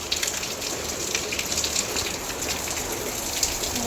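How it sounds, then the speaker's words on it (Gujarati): A steady downpour of heavy rain with a storm in Surat, a thick continuous hiss with water gushing and splashing close by. "ઓહો આમ તો કેટલો વરસાદ છે."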